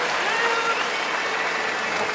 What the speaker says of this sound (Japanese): 負けた大栄翔にもこの大きな拍手。